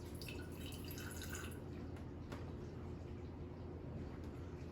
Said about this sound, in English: Solution B, I'm going to put 2 ounces of water.